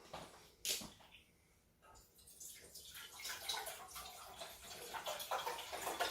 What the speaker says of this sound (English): We're gonna pour it in our pot.